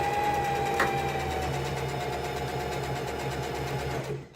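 A sewing machine hums steadily up close, stitching elastic onto a ribbon skirt in one continuous run that fades out at the end.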